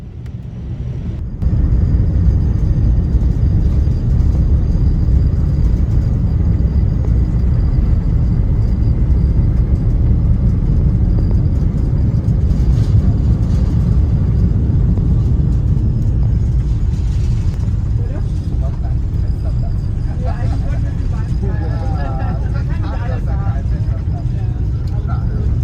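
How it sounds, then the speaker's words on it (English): Inside the economy cabin of a Lufthansa Airbus A380 on takeoff, a loud steady low rumble and roar fills the space, with faint voices of passengers talking beneath it. "you can really tell how quiet the A380 is when it's taking off"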